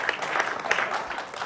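An audience at a book talk claps in a steady patter of applause, moderately loud and unbroken with no talking.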